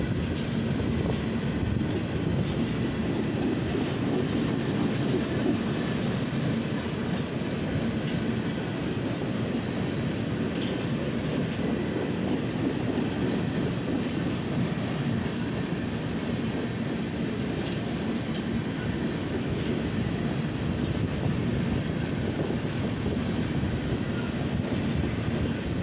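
A long northbound CSX coil freight train rolls past on the north side of Lima in the evening, a loud, unbroken rumble with steady wheel clatter and faint squeals over nearly half a minute, with no voices.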